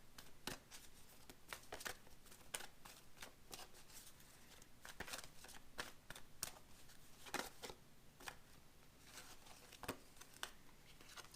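Tarot cards are shuffled and flicked in a quiet room. Soft, irregular snaps and riffles come close and faint, with no talking.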